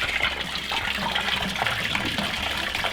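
Coolant water draining from the cooling system of an Audi 80 engine, a steady close splashing gush pouring continuously without a break.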